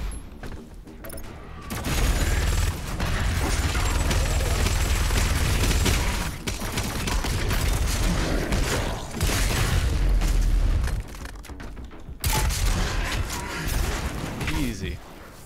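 Heavy weapons fire from the first-person shooter Doom Eternal, played on Nightmare difficulty: loud, dense blasts and booming bursts fill most of the stretch, with short lulls between, while a player's voice runs underneath.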